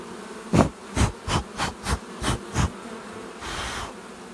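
Honeybees from a nucleus colony buzzing close by as they are brushed off, in a series of short swelling bursts, roughly one every half second, ending in a steadier, softer hum.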